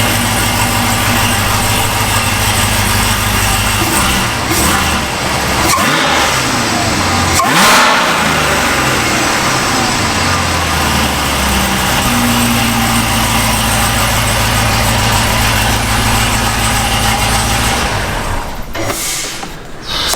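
A swapped LT4 V8 in an Aston Martin Vantage runs loud and close, idling with a deep rumble and blipped up to sharp revs, ending in a final surge.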